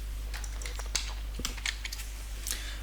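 Virtual machine name entered on a computer keyboard while setting up a Hyper-V failover cluster, a run of light, irregular key clicks over a steady low electrical hum, close and without talking.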